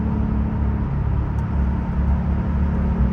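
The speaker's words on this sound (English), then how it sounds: "Downshift rev match with no hands." A 2018 Porsche 911 Carrera GTS twin turbo rumbles steadily from inside the cabin as it downshifts with a rev match, its loud, low engine drone shifting pitch briefly partway through.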